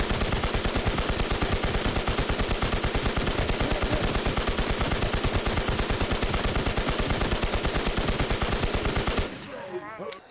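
Kruger .22 rifle fire aimed at a boss in the shooter game Infestation, a fast unbroken stream of sharp shots for about nine seconds before cutting off to quieter game sound.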